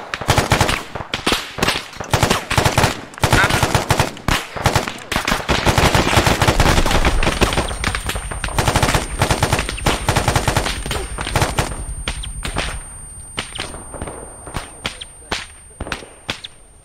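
Heavy, rapid gunfire in the Arma 3 military game, with dense automatic bursts and sharp single cracks that thin out into sporadic shots toward the end.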